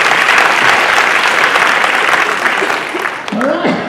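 A live audience at a 2019 Digital Institute public-speaking session claps in a dense, steady burst of applause that holds loud for several seconds, then thins and tails off near the end.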